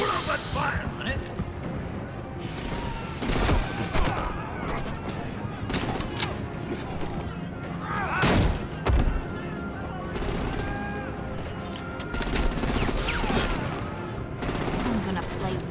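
Gunfire in the Batman The Enemy Within video game: dense, loud bursts of rapid shots and heavy blasts keep going throughout, with voices talking over the shooting.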